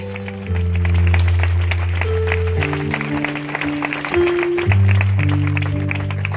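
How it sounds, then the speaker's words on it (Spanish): A church congregation claps loudly and steadily during a Spanish-language worship campaign service, with sustained keyboard or organ chords playing underneath. "Le den un fuerte aplauso al único Dios verdadero."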